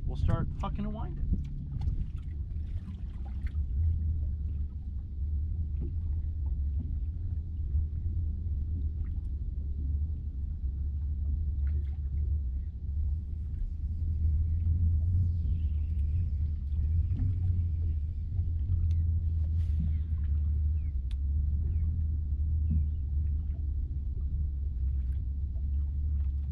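A trolling motor runs on a bass fishing boat on Lake Okeechobee, giving a steady low hum and rumble that continues throughout at moderate level, with faint water and wind noise and brief soft sounds early on.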